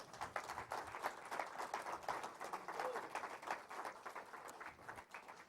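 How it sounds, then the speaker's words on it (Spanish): Church congregation claps for the Lord in a fairly quiet, rhythmic patter of hands, steady and somewhat distant, with faint voices mixed in. "dele palmas al Señor"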